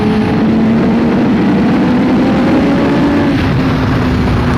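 Loud, close motorcycle engine held at around 75-80% throttle, a sustained rough roar with a steady pitch that rises slightly and then eases, dominating the scene with no one talking.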